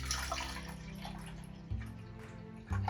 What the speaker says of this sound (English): So for this test, we fill it half with water.